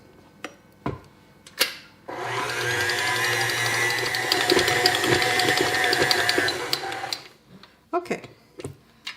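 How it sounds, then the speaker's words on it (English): A stand mixer kneads sweet milk bread dough for German Milchbrötchen with a steady mechanical whir and rattle for about five seconds. Scattered knocks and clicks come before and after it. "now I will knead this for 10 minutes"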